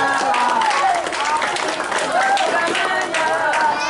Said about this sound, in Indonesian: Ya, beri tepuk tangan teman-teman